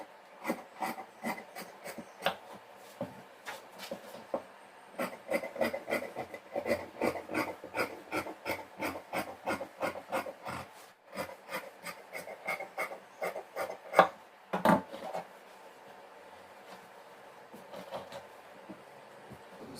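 Scissors snip through chudidhar top fabric in quick repeated cuts, a close run of crisp rasping strokes in steady bursts with brief pauses between, fairly quiet overall.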